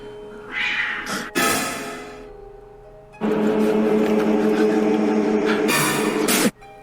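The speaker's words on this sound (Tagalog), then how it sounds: "nakarinig na ang lalaki na may hawak ng kamera ng isang pusa na para bang" A cat yowls and screeches in loud, drawn-out bursts, as if being strangled, with a brief harsh cry early on and a long sustained wail later, close and alone.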